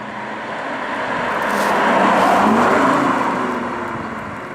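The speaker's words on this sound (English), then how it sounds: "The first thing you hear is all this engine noise. It sounds like a V8." Synthesized engine sound of a BMW i8 in sport mode, piped through the cabin speakers, a steady broadband roar that swells toward the middle and eases off again, heard alone with no talking.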